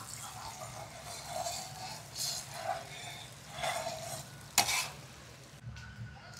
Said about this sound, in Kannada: ಹಸಿಮೆಣಸಿನ್ಕಾಯಿ ಹಾಕಿದ್ಮೇಲೆ ಎಣ್ಣೆಯಲ್ಲಿ ಚೆನ್ನಾಗಿ ಫ್ರೈ ಮಾಡಿ